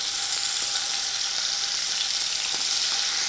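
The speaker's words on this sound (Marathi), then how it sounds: "आपण हे पीस आता यामध्ये टाकूया आणि याला शालो फ्राय करून घेऊ" Paneer pieces shallow frying in hot oil make a dense, even hiss that stays loud and close throughout. Faint crackles show through the sizzle, and nobody speaks.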